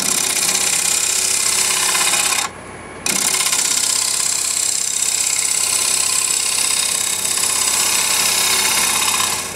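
A wood lathe spinning as a tool cuts the face of a short stack bowl, a loud steady whirring hum with a scraping edge that dips briefly before resuming, no talking.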